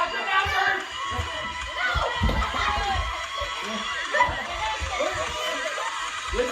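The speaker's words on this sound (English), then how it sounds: "Yell out the number." Children shout and call out at a lively live Easter event game, their overlapping excited voices forming a busy crowd din with cheering and thumps throughout.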